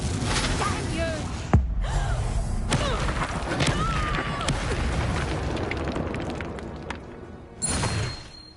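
A Confringo spell explodes in Hogwarts Legacy, a sudden sharp blast bursting out of busy combat ambience, with a second surge of noise near the end.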